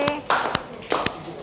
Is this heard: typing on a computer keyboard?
no